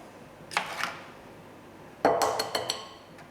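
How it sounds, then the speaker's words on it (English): Two eggs cracked one after another into a bowl in a school food-room kitchen, each giving a sharp clink and tap of shell on the rim, the second burst louder and busier, with no talking. "So I need 2 eggs. I'll crack those into the bowl."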